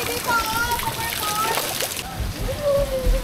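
Water splashing and sloshing at a pool party, a child coming down a slide into shallow pool water amid steady background noise, with children and adults talking and calling out over it.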